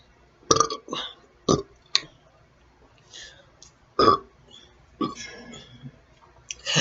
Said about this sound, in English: In some cultures, it's insulting not to burp.